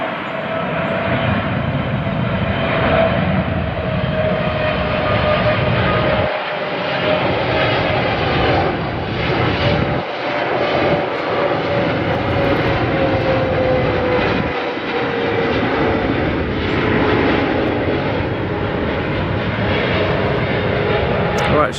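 Massive jet airliner engines roar continuously at LAX, a loud, sustained broadband rumble with a slowly falling whine as a plane passes, with brief dips in the drone.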